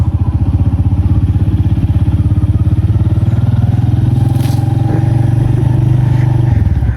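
A motorcycle is ridden close by, its engine throbbing in a loud, rapid, steady pulse for several seconds before easing off at the end.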